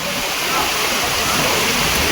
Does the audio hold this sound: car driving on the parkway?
no